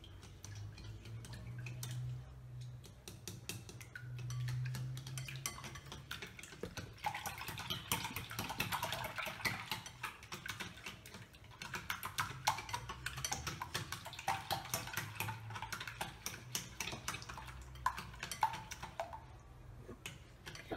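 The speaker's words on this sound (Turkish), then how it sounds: "Şimdi çırpalım bunu iyice." Eggs being beaten in a bowl for an omelette make a quick, steady run of light clicks and taps, quiet and close, with no talking.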